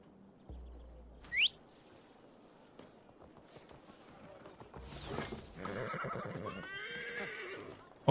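A horse mount in the Viking-era game Assassin's Creed Valhalla, set in Ireland, gives a loud, close whinny, then hooves clop and a second neigh follows among game sound effects and a short rising chirp.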